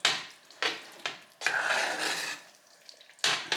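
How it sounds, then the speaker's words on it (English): Pumpkin risotto stirred in a pot off the heat, a utensil scraping and knocking against the pot in uneven strokes, with a few sharp taps between longer sloshing scrapes, close and fairly loud. "So let's cut the heat and stir it around."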